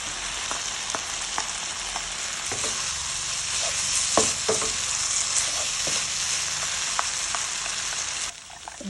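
Pink beetroot-tinted rice noodles stir-frying with pork and fried tofu in a hot pan, a loud continuous sizzle broken by repeated scraping and tossing clicks of the utensil, no voices.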